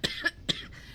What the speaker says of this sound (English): Khepri's gonna just watch all of her failed attempts and she's gonna start coughing